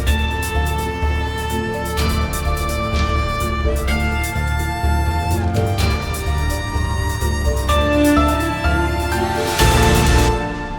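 A full orchestral-style arrangement built on Native Instruments Low End Strings plays steadily, with deep sustained bass string tones under layered chords and rhythmic accents, swelling into a denser build near the end.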